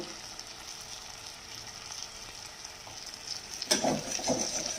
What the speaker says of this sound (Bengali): এবার এটাকে মশলার সাথে ভালো করে কষিয়ে নেব।